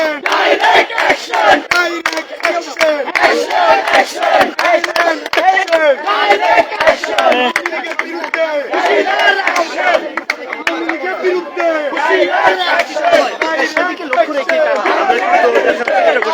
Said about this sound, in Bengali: এখানে কিন্তু মুখোমুখি স্লোগান হচ্ছে